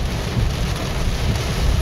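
Heavy tropical rainstorm pouring down on hot roads, a dense constant roar of rain with a low thundery rumble, no talk.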